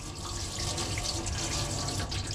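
Hot water runs from a mixer tap in a 2018 Tracker EKS Auto caravan, a steady close rush of flowing water filling a sink that continues without a break.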